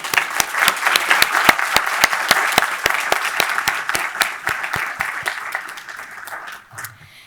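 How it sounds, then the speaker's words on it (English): An audience at the Georgetown Pivot Program 2023 graduation applauds the faculty, with close, sharp individual claps in a steady rhythm over a broader crowd clapping that tapers off near the end. "I hope you'll join me in giving them a round of applause"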